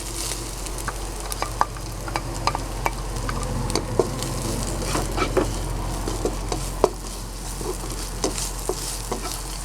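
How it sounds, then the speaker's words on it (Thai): Shallots stir-fried over low heat in a pan for a savory Thai khanom thian filling, with a steady gentle sizzle and scattered clicks and scrapes of a spatula, close and continuous, with no voices. "เราก็จะใส่หอมแดงลงไปผัดต่อเลยนะคะ"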